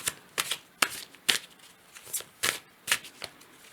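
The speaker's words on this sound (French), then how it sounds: "On va prendre une autre carte." Tarot cards are shuffled in a quiet room, with a series of crisp riffling snaps at a fairly even pace, close and clear with no voice.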